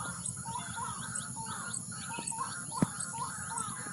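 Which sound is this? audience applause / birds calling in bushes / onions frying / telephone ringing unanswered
birds calling in bushes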